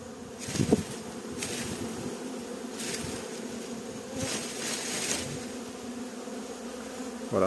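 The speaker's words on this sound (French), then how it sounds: "Les abeilles ne sont pas dangereuses quand elles sont en essaimage, elles sont pleines de miel" A swarm of honeybees buzzes around a hive set in a magnolia tree in Vallauris, a continuous droning hum with individual bees passing close now and then in louder swells.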